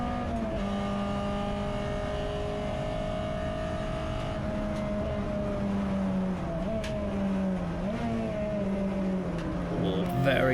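Tin-top saloon racing cars, a Renault Clio among them, run nose to tail through Stowe at Silverstone, a loud constant engine drone from on board with shifting revs as the pack bunches up, while a voice talks over it.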